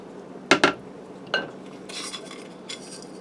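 A utensil spreads crispy topping over creamy ranch mac and cheese in a dish, making a few sharp metallic clinks and scrapes against the dish with quiet pauses between them.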